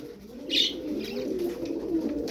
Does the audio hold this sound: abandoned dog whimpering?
no